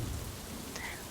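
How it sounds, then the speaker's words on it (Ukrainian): Evening rain patters steadily on the roofs of an old city, a soft, even wash of drops with no voices. "Сьогодні дощ звучить так урочисто."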